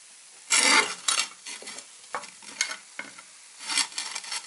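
Sandwiches fry in oil in a pan that is swirled around on an uneven stove, giving bursts of crackling sizzle that swell and fade in several uneven waves, close and fairly loud, with no talking.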